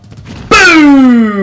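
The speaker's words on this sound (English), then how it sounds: "We smashed that for another blue box." A box smashed in Super Smash Bros. Brawl: a sudden sharp crack followed by a bright ringing tone that slowly glides down and fades, loud and close, with no talking.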